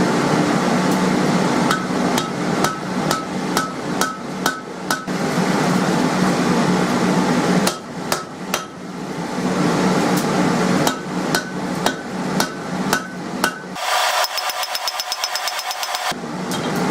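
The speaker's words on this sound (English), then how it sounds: "Now I need to flatten the head out so it's the same width as the shaft." Hammer blows forging and flattening the head of a hand-forged nail, loud ringing strikes in quick bursts with short pauses between, close by in a blacksmith's shop.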